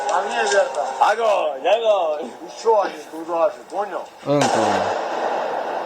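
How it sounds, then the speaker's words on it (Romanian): Someone talks excitedly, then a sudden loud blast from a Ukrainian drone strike on an oil depot in Sochi cuts in and rolls on as a dense, rumbling roar to the end. "Încă o explozie."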